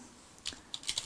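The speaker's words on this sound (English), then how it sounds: "I'm just typing a few commands on the console" Commands are typed on a computer keyboard at a console linked to an ARM microcontroller's debug port: a few quiet, close key clicks in a short irregular burst, with no talking.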